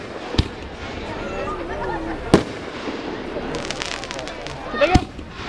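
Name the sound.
fireworks bangs at Bear River Cherry Carnival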